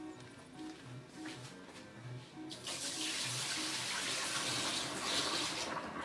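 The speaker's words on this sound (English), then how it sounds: "Dump some more water out." Water pours out of a pot into a sink in a steady rushing splash that grows louder partway through, with faint rhythmic tapping underneath at first.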